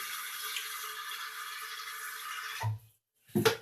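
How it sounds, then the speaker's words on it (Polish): Steady broadband rush of water running for a couple of seconds, then it stops, followed by a brief splash and clatter near the end. "Zapodaję więc małą ilość wody."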